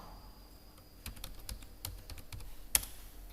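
Keys clatter on a computer keyboard as a web address is typed: scattered quiet clicks, then a denser burst of keystrokes with one sharper tap near the end, close up, with no voices.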